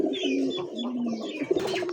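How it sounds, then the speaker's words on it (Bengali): A large pigeon of the big domestic breed coos in soft, low, rolling phrases close by, repeating for two seconds with faint chirps and light background noise. "না ভাই, এটা বড় পায়রা।"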